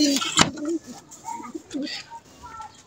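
Pigeons in a loft cooing and calling in repeated low murmurs, with some brief louder fluttery bursts near the start, fairly close and moderately loud, no speech.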